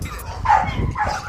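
A young Jack Russell–type working terrier and other dogs yapping and whining nearby, short sharp barks over a noisy background with a voice also present.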